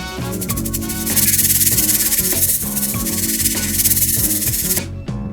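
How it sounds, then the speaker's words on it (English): An albino timber rattlesnake shakes its keratin rattle in a loud, continuous buzzing hiss that swells and pulses slightly, close and alone, before cutting off abruptly. "When provoked, they use their keratin rattle as a warning before striking."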